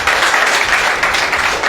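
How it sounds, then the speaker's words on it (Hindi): Loud, sustained audience applause at an event at a business and accounts institute in Begusarai, Bihar, continuous and close with no break. "ताली बजाइए जोरदार।"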